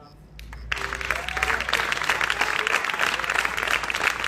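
Applause for a live guitar duo performance breaks out after a brief quiet moment, a dense, steady clapping from an audience that holds strong through to the end.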